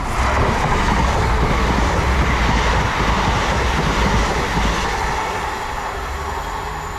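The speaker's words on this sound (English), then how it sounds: "passing through now is a Great Western Railway service from Worcester Foregate Street to London Paddington" A Great Western Railway Class 800 train, unit 800 008, running from Worcester Foregate Street to London Paddington, roars through a station on the Birmingham to Worcester line, a loud continuous rumble that slowly eases as it passes.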